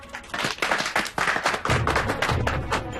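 A small group of people clap together, a loud, close burst of dense hand claps that starts after a brief pause and continues without letup.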